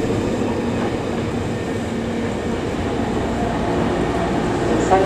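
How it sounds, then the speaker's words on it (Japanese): Steady rumble and rattle of a Hankyu 9300 series train rolling into Katsura Station, Japan, with wheel noise and a faint squeal near the end. "ただいま到着の電車は当駅止まりです。"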